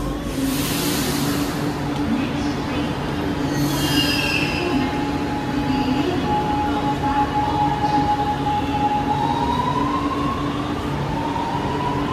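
A Chennai metro train near Thousand Lights station screeches as its wheels squeal on the rails, a sustained high-pitched whine that rises and wavers over a constant close rumble of the moving cars, with no talk.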